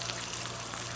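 Egg frying in melted butter in a medium pan, giving a steady, close, fine crackling sizzle with scattered pops and no talk.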